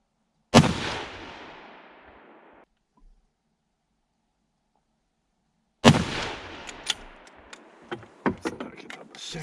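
Two sharp rifle shots fired with subsonic silencer ammunition through an unsuppressed rifle, each a loud crack with a decaying tail, the second followed by clatter and small knocks.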